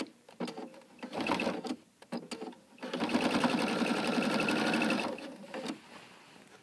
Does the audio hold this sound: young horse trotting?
no